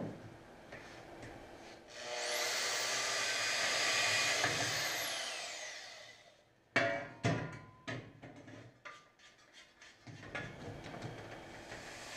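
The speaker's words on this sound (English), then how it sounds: "I'm just gonna take my portable bandsaw and zap it down." A portable bandsaw cuts through a metal bar for a homemade car rotisserie, a loud sustained whining grind of about four seconds that tails off, followed by several sharp clanks and knocks of metal being handled.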